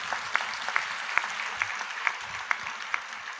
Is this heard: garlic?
no